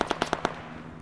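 Burst of five rapid rifle shots in the Arma 3 military game, evenly spaced cracks at moderate distance, then a brief fading echo; no voices.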